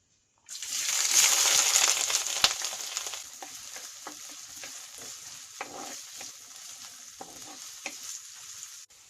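Loud sizzling as onion, ginger and garlic hit hot oil after fenugreek seeds pop, settling into a steady crackling fry with occasional stirring clicks.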